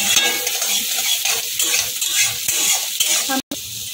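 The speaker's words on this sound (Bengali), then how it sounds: "এবার কোচানো পেঁয়াজ আর কোচানো কাঁচা লঙ্কাটা আমি দিয়ে দেবো। একটুখানি নেড়ে নেব।" Chopped onion and green chilli being stirred in a hot oiled pan for Chinese-style veg fried rice, with close, busy sizzling and the scrape and clink of a spatula against the pan.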